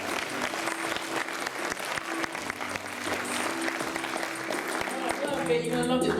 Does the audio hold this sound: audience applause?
yes